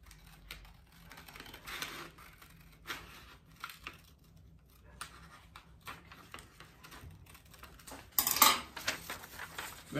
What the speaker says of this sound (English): Cut that out with some scissors.